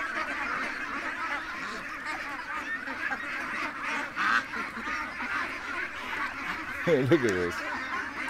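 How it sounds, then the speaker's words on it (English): A crowd of ducks and geese in a farm pen gabble, quack and honk at close range in a constant jumble, with one louder honking call near the end and a person speaking briefly among them. "Okay, ducks, geese, I need in there."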